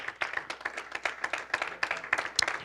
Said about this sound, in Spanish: Dele fuerte palmas al Señor.